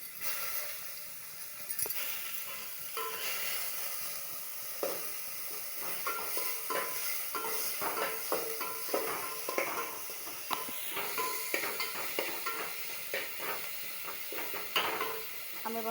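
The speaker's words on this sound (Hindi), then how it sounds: "प्रथम आम पियाज को ऐड करदबा" Onions stirring and frying in a pan of oil on a gas stove, a steady soft sizzle with scattered scraping and clinking of the spatula throughout, fairly quiet and without talk.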